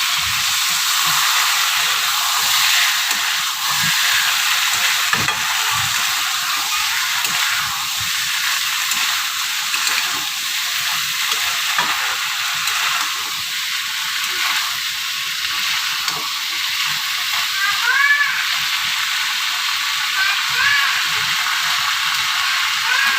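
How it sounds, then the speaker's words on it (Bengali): Boiled chickpeas sizzle and hiss steadily as they are stirred into cooked masala for chana masala, a continuous close frying crackle with scraping stir sounds and no talk. "এখন আমি সিদ্ধ করা চানাটা মিক্স করে দেবো।"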